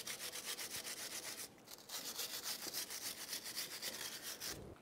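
Wire brush scrubbing a 2002-2007 Chevrolet Trailblazer front upper ball joint area on the suspension knuckle, a loud, steady run of rapid back-and-forth strokes with a brief pause partway, no talking.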